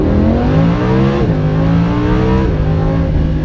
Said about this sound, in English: That's V10 soundtrack.